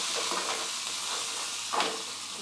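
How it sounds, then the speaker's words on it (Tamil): Coriander leaves sautéing with spices in a hot pan give a constant soft hiss and sizzle, with a brief stronger flare of frying partway through. "கொத்தமல்லி தழையை போட்டுட்டு அதை நல்லா அப்படியே வதக்கிட்டு,"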